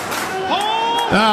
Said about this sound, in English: The Manly chant going up.